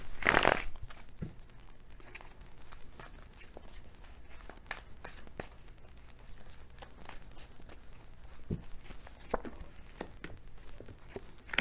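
Tarot cards shuffled by hand during a weekly Libra reading, a steady crinkly rustle of cards with scattered sharper slaps and taps, close by, starting with a louder burst and then continuing quietly without talk.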